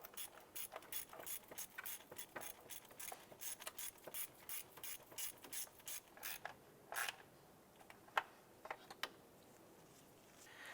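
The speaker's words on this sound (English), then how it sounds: "then we'll put our ratchet and socket on in there. And we'll go ahead and start getting that threaded in" A ratchet and socket threads a bolt into the intake manifold of a 2011-2019 Ford Fiesta, giving steady bursts of rapid clicking in short runs, then a few isolated clicks near the end, close and clear with no talking.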